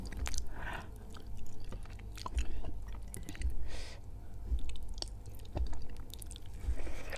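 Chicken satay with peanut sauce is chewed close to the microphone in a steady rhythm of moist, squishy bites, with small clicks and a few crunchy moments and no talking.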